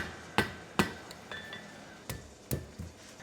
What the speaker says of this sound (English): I'm using a rawhide mallet.